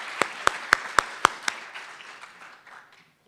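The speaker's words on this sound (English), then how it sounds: "which I think deserves a round of applause." A short burst of audience applause at a public health talk begins with a few distinct, sharp claps. It then quickly thins out and fades to silence within about three seconds.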